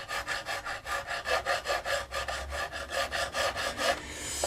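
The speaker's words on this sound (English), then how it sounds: "the way to do that is I'm using 400 grit paper because I don't really want to take too much off" Stainless steel fret tops are rubbed with 400 grit sandpaper, making a steady, close rasping rhythm of about a dozen back-and-forth strokes with no talking.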